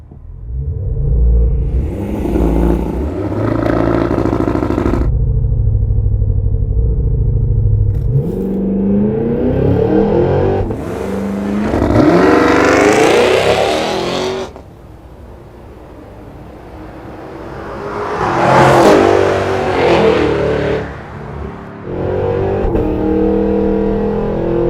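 Hand-built 6.2-liter supercharged V8 of a 2023 Cadillac Escalade V doing launch-control starts and hard accelerations, with deep rumbling revs that surge, fade and return in several loud bursts, no talking.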